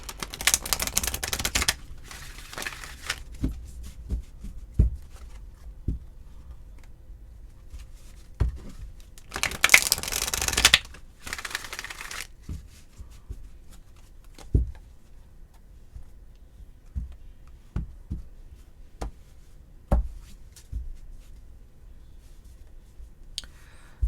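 Tarot cards are shuffled in two quick riffling bursts, separated by scattered soft taps and clicks as the deck is handled and squared.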